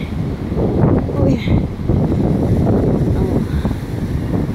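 Sea water swirls and surges around rocks as waves break, a rough, continuous wash with strong wind buffeting the microphone.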